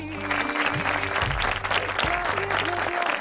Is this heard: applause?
yes